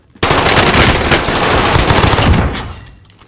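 Loud, close automatic gunfire in the video game Call of Duty Warzone: a continuous rapid burst of about two seconds that fades out at the end, with no talking.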